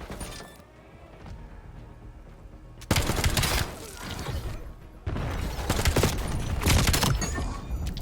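An MK78 light machine gun fires in the Black Ops 7 video game, with loud sustained bursts of rapid automatic fire that follow a quieter stretch, separated by a short pause.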